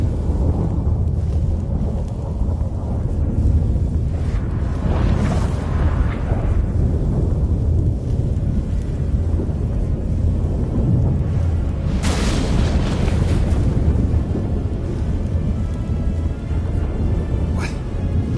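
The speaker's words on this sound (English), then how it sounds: "That a storm?" A thunderstorm in The Witcher 3: Wild Hunt rumbles on as a dense, steady roar, with heavy booming cracks rising out of it at intervals and no break.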